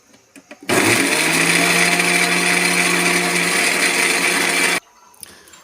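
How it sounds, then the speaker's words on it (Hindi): An electric grinder whirs loudly and steadily for about four seconds as it grinds onion paste mixed with castor oil, starting and stopping abruptly with quiet moments before and after. "तो इसको हम इसमें डाल देते हैं ग्राइंडर में, और इसमें हम जो ये है कैस्टर ऑयल डाल देंगे"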